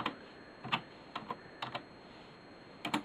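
Someone types on a computer keyboard, with scattered single and paired key clicks in an irregular rhythm, close and fairly quiet over a faint hiss.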